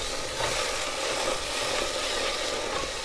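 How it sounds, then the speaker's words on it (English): Ketchup stirred into garlic in a hot pot gives a continuous bright sizzle with soft stirring scrapes, steady and fairly loud throughout, with no voices. "Stir that up good"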